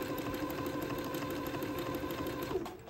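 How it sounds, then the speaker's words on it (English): Sewing machine set to zigzag stitch, sewing an entre-deux cuff onto a baby dress sleeve, running in a continuous close, even mechanical hum with rapid needle ticking for the whole stretch. "I have my machine still set for a zigzag and the appropriate stitch length and stitch width for sewing entre-deux"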